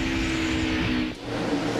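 Onboard a NASCAR Busch Series race car, the Dr. Pepper car, during a 2001 race: a loud, steady engine drone fills the cabin, dipping briefly about two-thirds through before resuming.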